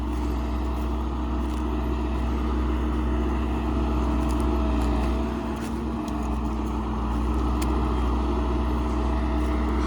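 A heavy MTZ tractor engine drones steadily under strain pulling a plough with wheels slipping, a loud continuous low rumble with faint rattles on top.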